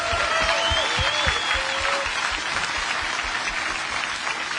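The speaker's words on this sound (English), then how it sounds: "Let's give them a round of applause, please." A crowd at a bass fishing championship applauds veterans, broad continuous clapping with a few whistles rising above it, steady and sustained from start to finish.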